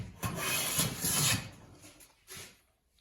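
A Stanley No. 7 hand plane rasps across wood in three strokes, two long shaving passes followed by a shorter one, close and with no voices.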